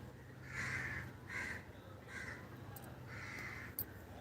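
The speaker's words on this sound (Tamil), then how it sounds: "மேலே வேற காக்கா பறக்குது." A crow caws outdoors several times at a distance, separate harsh calls spaced out over steady background hiss.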